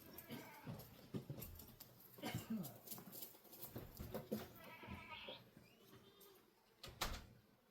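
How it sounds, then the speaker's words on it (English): Goats bleating at a farm while dogs play among them, several short calls scattered over the clip between thuds and movement, with faint voices in the background. "Look at the dogs playing with the goats."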